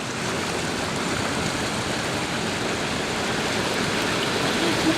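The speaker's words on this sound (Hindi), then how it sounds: "ये ब्रिज के ऊपर इतना पानी देखें।" Heavy rain and floodwater rushing over a bridge in Jeddah make a dense, steady roar of water that stays loud and unbroken throughout, with no voices.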